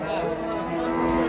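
A Red Friesian dairy cow at a cattle market gives a low, sustained moo close by, with faint voices in the background.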